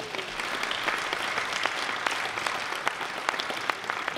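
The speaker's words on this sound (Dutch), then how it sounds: "Geef ze een applaus." Audience applause at a Dutch Dada commemoration matinee, a dense, steady wash of many hands clapping throughout with no talk over it.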